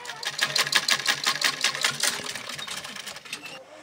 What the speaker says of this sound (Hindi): सिलाई सिकाई रही छु, आफू पनि सिल रही छु।